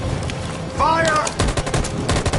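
Gunfire in Detroit: Become Human, loud and close, with rapid bursts of overlapping shots and a voice briefly shouting over them.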